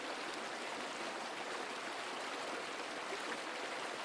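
Water flowing steadily through a karst cave beneath Ljubljana, a continuous, even wash of rushing sound with no breaks, fairly soft and alone.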